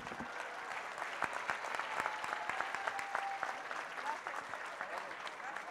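Guests at a collective wedding celebration applaud a hotel's gift, with sharp individual claps standing out over a sustained crowd clapping and some faint voices in the background.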